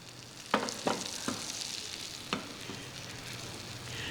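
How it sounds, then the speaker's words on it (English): Kerala-style fish fries in hot oil with a steady, close sizzle, broken by a few soft scrapes and clicks as the pieces are turned. "Okay, the fish is cooking quite well."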